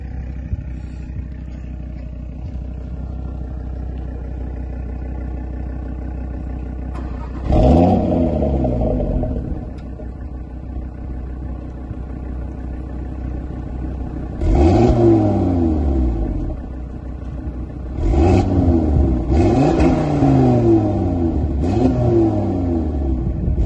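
An Audi RS3 8V sports car revs its engine in several sharp bursts over a steady idle rumble, each rev climbing and falling, heard nearby with no talking.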